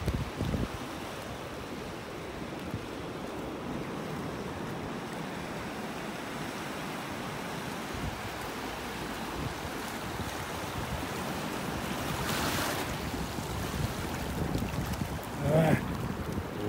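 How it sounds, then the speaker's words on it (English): Ocean surf washing onto a beach in North Naples, Florida, heard as a steady broadband rush of waves mixed with wind buffeting the microphone, swelling slightly louder near the end. "The waves are getting me."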